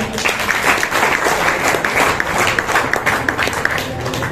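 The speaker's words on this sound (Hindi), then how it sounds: "एक बार अपने लिए जोरदार तालियां।" Loud, dense applause from a large audience at a motivational event, steady clapping filling the whole stretch without a break.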